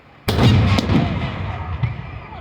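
A single loud firework blast from a professional-grade Fourth of July show bursts suddenly, then rolls into a long crackling, rumbling decay.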